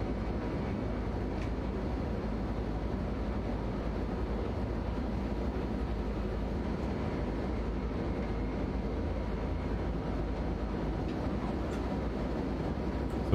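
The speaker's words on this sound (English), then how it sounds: "There's a freight train." Freight train rumbling past in Train Simulator Classic on the Koblenz to Cologne line, a steady, continuous low drone of rolling wagons that holds evenly throughout with no pauses.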